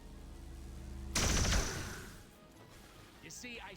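A single loud pistol shot in the turn-based strategy game XCOM 2 (LWOTC mod) rings out over a low hum, followed by a decaying rumble and faint trailing sounds.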